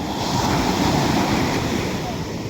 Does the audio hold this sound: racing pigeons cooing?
no